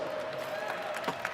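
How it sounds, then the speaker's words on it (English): Audience applause rings out at a rum festival event, Rumfest 2012, as a guest is welcomed on stage: a brief, steady wash of clapping and crowd noise. "Give him a big round of applause."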